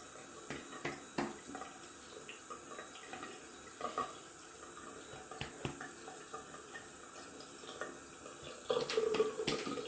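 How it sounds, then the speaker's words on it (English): Cold tap water runs steadily into a sink for rinsing after a wet shave, a faint continuous splash broken by a few soft knocks and clinks, louder near the end. "going to rinse off with some cold water."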